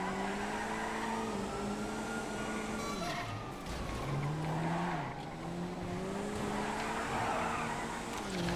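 A car engine in the racing video game GTA drones steadily with rising and falling revs and brief tire squeals, loud and continuous throughout.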